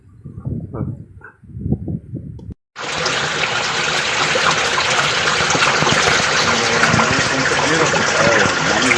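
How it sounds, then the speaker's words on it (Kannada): Lake water about ten inches deep gushes steadily out through an outlet, a loud continuous rushing flow that starts abruptly after a few seconds of someone talking. "ಹತ್ತು ಇಂಚ್ ನೀರು ಹೆಂಗ್ ಹರಿತಿದೆ"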